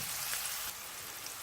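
Chicken pathia ingredients sizzle in a hot pan, a steady close frying hiss that stays fairly loud and even throughout, with no voices.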